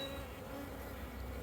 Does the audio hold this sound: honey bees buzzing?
yes